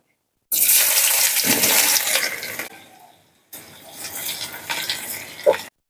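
Chopped onion hits hot oil for a lote fish dish: a loud, close hissing sizzle erupts, fades away, then returns in a second, more uneven burst.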